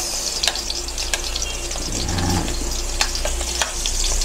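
Garlic and onion fry together in a hot pan, giving a close, continuous sizzle with occasional sharp pops and stirring clicks, with no voices over it.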